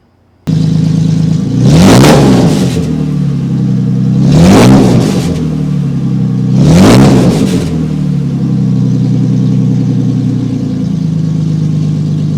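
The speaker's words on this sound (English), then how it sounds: "This is what she sounds like without the muffler." A loud, raw car engine without a muffler revs three times in a row, each roar rising and falling over a harsh, rumbling idle.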